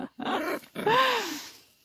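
A Shikoku puppy indoors gives a low growl, then a rising and falling whining growl, close and moderately loud, in short bursts with no talk over it.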